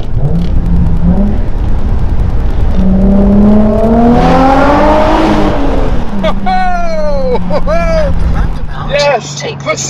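Nissan 350Z with a new loud aftermarket exhaust revving hard near a tunnel, engine note rising and falling through several strong throttle blips, close and loud, with people talking over it.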